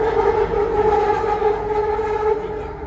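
Light rail train on the Kelana Jaya line gives off a loud, sustained screeching squeal of wheels on track while turning, heard close with rumbling underneath.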